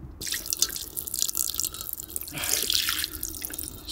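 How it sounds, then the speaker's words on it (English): Water from a Triflow mini tap pours and splashes into a sink in a steady gushing stream, close by, with a brief surge partway through; no talking. "Just pour this out into the sink."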